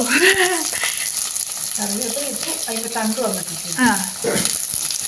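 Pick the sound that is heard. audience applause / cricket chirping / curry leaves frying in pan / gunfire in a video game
curry leaves frying in pan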